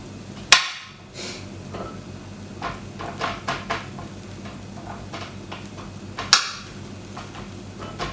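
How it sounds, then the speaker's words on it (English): A kitchen knife chops vegetables on a board while cooking vegetable pesto pasta at home, giving scattered dull knocks with two sharper, louder strikes standing out, close by and with no talk. "Now that's all the veg chopped,"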